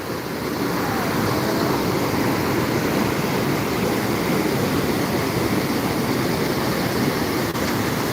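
Loud, continuous rushing of the Tapi River in Surat, a steady roar that fills the whole scene without pause.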